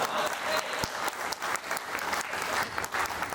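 An audience at a Hindi comic poetry gathering claps in a dense burst of applause that holds steady, moderately loud, before easing off, with no voices heard over it.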